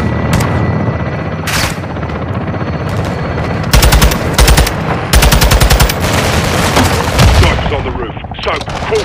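Dense automatic gunfire and scattered shots fill a multiplayer battle in Call of Duty: Modern Warfare 2, with rapid machine-gun bursts cutting through constant combat noise and a brief voice heard in the middle.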